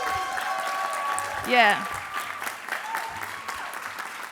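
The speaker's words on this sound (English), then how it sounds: "join me again in clapping" Applause at an awards ceremony rises briefly under a speaker's voice, with a short spoken exclamation and background music tones, the clapping modest and mixed rather than alone.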